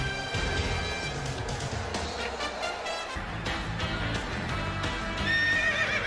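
A horse whinnies loudly with hooves clip-clopping, set against a dense, steady wash of background noise that fills the whole stretch.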